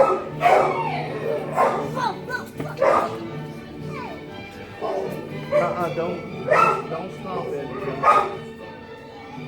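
A dog gives a run of yips, barks and whimpers at home, close and fairly loud, while people talk over and between the barks.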